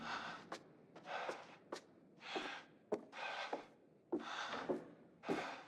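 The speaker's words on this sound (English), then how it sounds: "What's that noise? Dude's out of breath." Heavy, ragged out-of-breath panting from a character in The Dark Pictures: The Devil In Me, about six loud breathy gasps in an uneven rhythm, close and alone with no talk.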